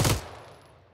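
A short, close burst from an MG3 machine gun in Arma 3, then a fading echo that rings out for most of the second.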